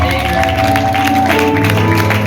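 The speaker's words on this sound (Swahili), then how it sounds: "Nisikie makofi mazuri kwa ajili yao." A church congregation claps during a worship service, the applause steady and dense throughout, with musical tones sounding underneath it.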